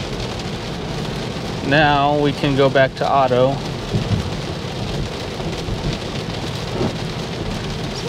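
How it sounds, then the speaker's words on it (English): Rain drumming steadily on a Tesla Model 3 while driving, with a low rumble of thunder beneath; someone speaks briefly over the constant wash of rain and road noise. "It's handling this rainy weather pretty decently."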